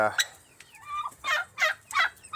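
Poultry near a chicken coop gobble in several short bursts, close and fairly clear, with a turkey-like call repeating about three times.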